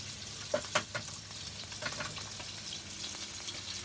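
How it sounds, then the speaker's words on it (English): An egg cracked into a hot pan while cooking seafood pad Thai, a few sharp taps up front followed by a steady close crackling sizzle of frying. "crack an egg in here"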